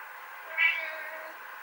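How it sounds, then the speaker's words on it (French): A house cat meows for food, one short, faint meow partway through against a quiet indoor background. "j'ai un chat qui veut réclamer à manger"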